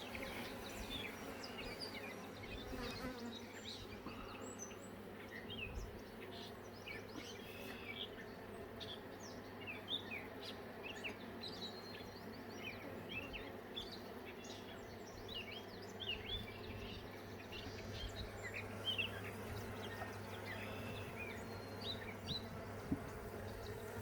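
Honeybees pour out of a freshly opened hive in a steady, dense buzz that surrounds the listener at close range and stays constant throughout, with occasional bird chirps in the background.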